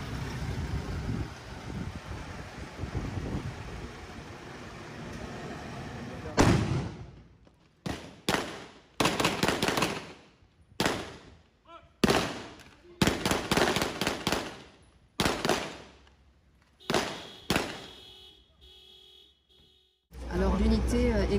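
Grenade blasts during a RAID police unit exercise: a run of sharp, loud bangs and crackling bursts in irregular clusters, separated by near-silent gaps, after a stretch of steady background noise.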